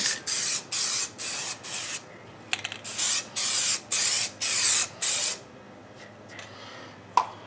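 Rust-Oleum Lens Tint aerosol sprayed in a light, even coat onto the tail lights of a 2005 Jeep Grand Cherokee: about ten short, close hissing bursts with brief pauses between them, then a quiet stretch with faint handling noise.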